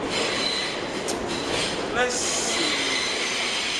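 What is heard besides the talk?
New York City subway A train riding on rails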